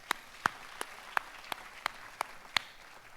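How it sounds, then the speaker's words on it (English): A handful of sparse, evenly spaced hand claps ring out one after another in a meeting room, sounding more like a few scattered people clapping slowly than a full round of applause. "Why don't we give ourselves a good round of applause for just turning up."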